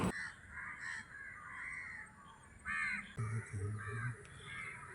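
Crows caw at a rocky hilltop, Vaniyambalam Para, in repeated short harsh calls at moderate distance over quiet outdoor ambience, with a few lower honk-like calls near the end.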